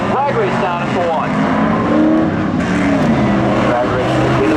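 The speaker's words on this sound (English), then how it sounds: "Awaiting the green, away they go. Drag race down into 1." Race cars at Seekonk Speedway roar in a loud, sustained engine drone as they drag race side by side toward turn one, pitch sweeping as they pass, with an announcer talking over the racket.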